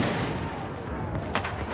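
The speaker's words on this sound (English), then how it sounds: "The British began a very heavy fire from their cannon" Heavy British cannon fire in a Revolutionary War battle, a dense, continuous rumble of booming blasts heard close and loud, with a sharper report near the end.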